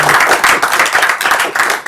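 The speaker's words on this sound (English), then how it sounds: "So should we applaud?" An audience applauds after a physics lecture on Landau singularities and cluster structure in scattering amplitudes: steady, lively clapping from many hands, fairly loud and continuous for a couple of seconds with no talking over it.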